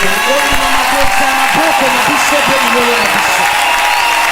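A church congregation in Kinshasa applauds during worship, continuous clapping mixed with loud voices singing or calling out over it.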